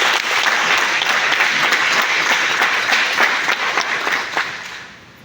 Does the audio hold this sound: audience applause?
yes